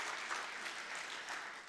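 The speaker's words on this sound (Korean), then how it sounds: "박수로 하나님께 영광 올려드리겠습니다" A church congregation applauds together during a Sunday worship service, a sustained, even wash of clapping heard from a distance at low volume.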